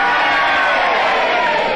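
A studio audience cheers and boos together in a dense, sustained roar of many voices, loud and continuous for the whole moment.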